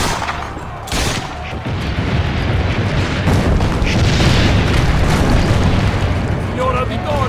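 Cannon fire and explosions boom in the Assassin's Creed Brotherhood video game, a dense, loud stretch of deep blasts and rumbling battle noise. Voices speak underneath.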